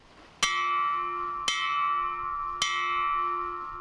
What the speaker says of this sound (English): all you have to do is ring the bell to make miracle happen